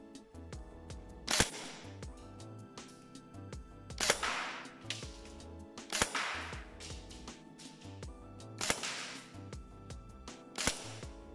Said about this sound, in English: Going to do a few shots down range onto the targets just to see what the grouping's like